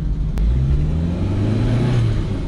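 Classic Ford Corcel with a 1.4 engine revving, a loud close rumbling engine that swells and holds for a couple of seconds with no voices over it.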